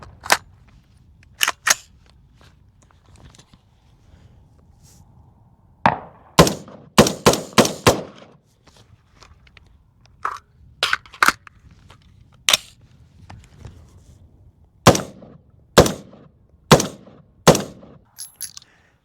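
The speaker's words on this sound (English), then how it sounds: "Another few rounds of firing." Zion I-15 AR-15 rifle firing single rounds and quick strings of shots, sharp and loud, spread unevenly across the stretch with brief pauses between.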